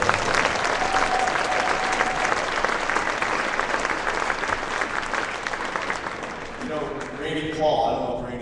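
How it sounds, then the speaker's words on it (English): A crowd applauds at a school pep rally, loud sustained clapping and cheering from a gym full of people that tapers toward the end as a voice begins over a PA. "Give her a round of applause."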